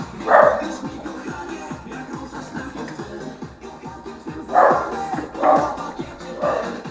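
Dog barking near a garage workshop where a Zetor tractor is being repaired: a few loud barks come in short bursts at the start and again near the end, over a quieter background of shuffling and work noise.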